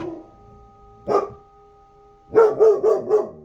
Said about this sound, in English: whenever one of them barks, they're barking at something that only they can see